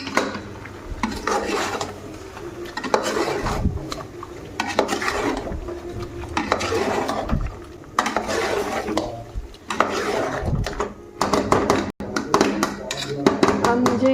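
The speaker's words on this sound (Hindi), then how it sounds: "अब मैं इसे अच्छे से पकाऊंगी, थोड़ा मिक्स करूंगी अच्छे से चिकन में।" Chicken with salt is stirred and fried in a pot for white chicken biryani, a spoon scraping and clinking against the pot in repeated rhythmic strokes while someone talks over the cooking.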